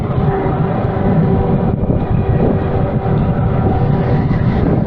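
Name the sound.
strong wind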